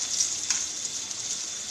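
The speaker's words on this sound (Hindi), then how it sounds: "अब इसमें हम डालेंगे आलू जो हमारे क्यूब्स की शक्ल में कटे हुए हैं। ये भी हम 5 मिनट फ्राई करेंगे।" Cubed potatoes fry in hot oil for a vegetable dal, producing an even, bright, close sizzle with a couple of brief stirring scrapes and no voices.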